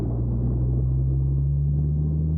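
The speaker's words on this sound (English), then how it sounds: "Oh, I hate thunder." Thunder from a storm rolls as a low, steady rumble with a deep drone beneath it, continuous and fairly soft throughout, with no voices over it.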